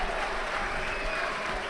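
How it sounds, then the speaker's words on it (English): Judo match crowd at the Tel Aviv Grand Prix applauding steadily, a dense, continuous wash of clapping filling the arena without a break. "you hear the crowd really applauding for this"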